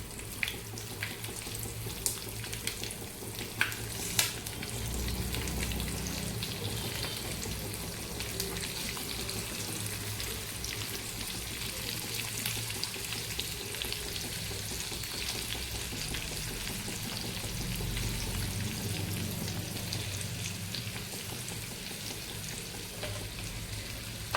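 Okra frying in a pan for a dry fry, a dense continuous sizzle and crackle held close and steady throughout, with a few light clicks near the start.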